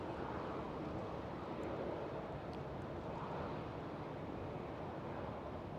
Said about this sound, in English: Alright, a 777 KLM